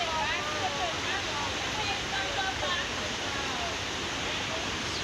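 Kpatawee waterfall in Bong County, Liberia, roars in a steady, dense broadband rush of falling water, loud and continuous throughout with no pauses.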